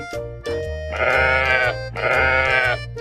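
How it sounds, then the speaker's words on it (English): A sheep bleats twice, two loud, drawn-out wavering cries close by, with a steady musical drone underneath. "It's a sheep."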